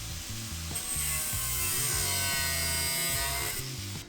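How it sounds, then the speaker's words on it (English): Angle grinder cutting through the metal bulkhead of a Jeep JK, a loud continuous high whining screech with a rhythmic low grinding pulse underneath, close by and alone, stopping near the end. "I'm going to cut all the way along our pieces with our angle grinder to remove those."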